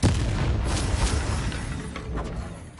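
An Incendio fire spell blast in Hogwarts Legacy: a loud booming eruption that hits hard at the start, then a roaring, crackling burn that slowly fades over a few seconds with no talk.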